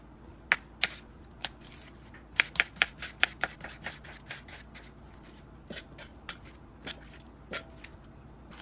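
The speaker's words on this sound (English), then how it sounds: "I love the way the chopping sounds." Sharp knife chops through tomatoes on a cutting board, quick irregular taps in short bursts, close and fairly quiet, with no talking.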